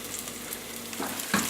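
Red and green chilies and garlic hit a pan of sauce and sizzle, a dense steady hiss with soft scraping stir sounds toward the end.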